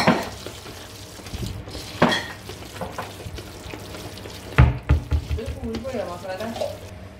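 Fish biryani masala with black pomfret being stirred in a pot, Kozhikode style, giving scraping, clinking and soft sizzling bursts that grow busier toward the end, with no talking.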